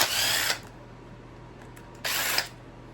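A power drill on a rubber-mount Sportster motorcycle teardown, removing bolts in two short, close whirring bursts with a quiet pause between them.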